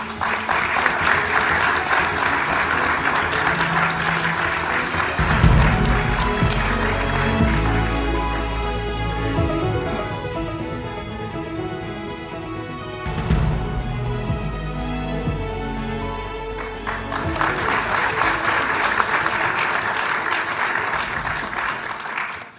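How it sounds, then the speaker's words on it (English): Sustained audience applause at the 2026 Victoria Australian of the Year awards ceremony, loud continuous clapping from a large crowd with music swelling underneath for a stretch. "Let's give them all another round of applause."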